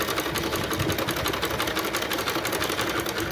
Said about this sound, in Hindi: हम इसकी सिलाई चलाए जा रहे हैं और इसे इस तरह से नीचे लेके आते जा रहे हैं